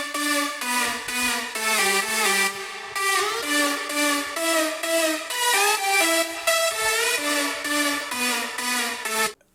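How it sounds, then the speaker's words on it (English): Six layered lead synths in a remix play together as one bright, buzzy melody, with rhythmic stabs and gliding phrases throughout, fairly soft and unaccompanied by voice. "5, 6 layers of lead synths for this remix."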